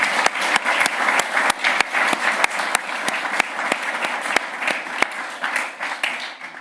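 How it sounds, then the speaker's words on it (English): An audience breaks into steady, sustained applause after a lecture at the ISCEx 2018 Hopkins-Baldwin event, many hands clapping at once and filling the room at an even level throughout. "So a round of applause, please, for Chris."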